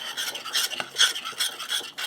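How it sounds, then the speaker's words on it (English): A spoon stirs espresso powder into hot melted butter in a bowl, a rhythmic scraping and rasping swirl in quick repeated strokes, close and fairly loud with no voices. "I'm going to mix that in while it's still hot."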